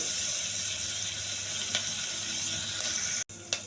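Curry leaves and green chilies fry in hot oil in a pan, giving a steady loud sizzle with faint crackles and pops. The sizzle breaks off for an instant near the end, then carries on.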